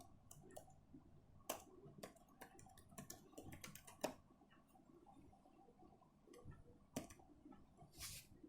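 Someone types on a computer keyboard while working in the Azure command-line shell, producing faint, irregular clicks and a few sharper keystrokes against a quiet room.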